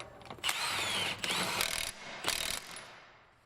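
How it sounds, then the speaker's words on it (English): A 1/2 inch impact gun with a 32 mm socket tightens the axle nut on an Infiniti front wheel hub in three loud, close, rattling bursts before the sound trails off. "the axle nut goes right back on. 1/2 inch gun, 32 mil socket."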